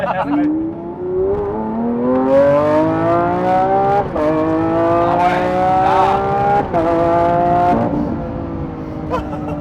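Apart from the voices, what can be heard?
Lamborghini Aventador revving with exhaust pops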